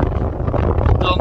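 Cold wind on the sea dike at Den Helder in the early morning, a steady loud rumbling buffet across the microphone that runs the whole time, with a faint higher whine near the end.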